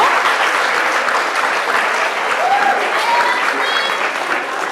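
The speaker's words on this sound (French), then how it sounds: "sous vos applaudissements." Steady audience applause at the Challenge Innovatech event in a lycée in Fort-de-France, Martinique, a dense continuous clapping from a crowd that holds level throughout.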